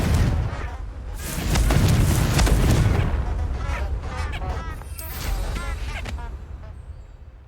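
A Confringo fire-blast spell cast in Hogwarts Legacy, heard as heavy booming explosions with rumbling debris, loudest early on and then a second, lighter burst of crackling impacts.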